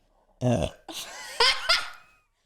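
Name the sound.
burp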